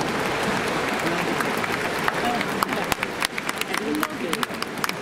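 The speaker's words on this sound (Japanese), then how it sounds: "拍手をお迎えください" A stadium crowd at a baseball game applauds a ceremonial first pitch, a dense, steady wash of clapping filling the whole stretch with faint crowd murmur mixed in.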